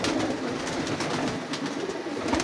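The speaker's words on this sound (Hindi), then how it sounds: "बोस की वाइट आँखों के कबूतर हैं ये देख लें" Several white-eyed pigeons coo steadily in a loft, their soft repeated calls overlapping at close range against a constant background hiss, with no talking.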